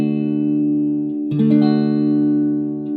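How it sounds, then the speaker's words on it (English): An electric guitar strums an A-shaped major barre chord rooted on the fifth string, a held chord ringing, then struck again with a brighter attack and sustained, up close and without talk. "So that's your most common A-shaped major bar chord."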